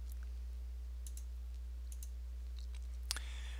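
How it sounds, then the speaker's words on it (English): Computer mouse clicks on a line number in a code editor, a few small sharp clicks spread out over a low steady hum, with one slightly louder click near the end. "Click on the number next to the line you want to break on."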